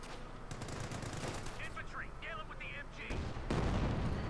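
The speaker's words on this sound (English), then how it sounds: "Another shot fired there" Battlefield gunfire and heavy cannon shots in the strategy game Company of Heroes 2, faint crackling shots and thuds mixed with distant rumble, while a voice talks over the action.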